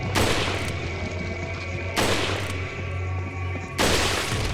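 Three loud, sharp rifle shots in the Resident Evil 4 video game on professional difficulty, evenly spaced about two seconds apart, each with a long reverberant tail over a steady low hum of game ambience.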